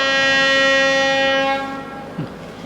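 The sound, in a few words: train approaching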